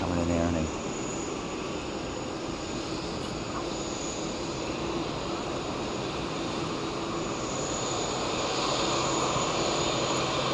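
Steady drone of aircraft engines from a plane at Sydney Kingsford Smith Airport, a continuous broadband roar that holds level for the whole stretch, with faint talk underneath.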